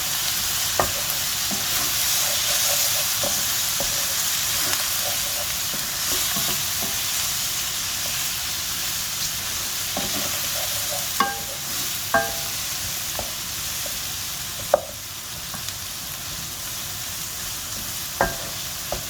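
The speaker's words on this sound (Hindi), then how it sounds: "और तकरीबन 30 सेकंड तक इसको अनियन के साथ फ्राई करूंगी मीडियम आंच पे।" Potatoes and eggplant fry with onion in oil over medium heat, a steady broadband sizzle running throughout with occasional sharp pops and spoon clicks against the pan.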